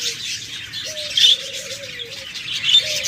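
A pair of rainbow lovebirds chirps close by, with short tweeting calls and a few coo-like notes that come and go in bursts. No voices are heard.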